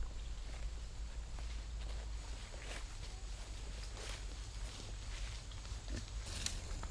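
Pigs raised for meat rooting and digging through greenery with their snouts: faint rustling, scattered snuffles and soft grunts over a constant low hum, with no voices.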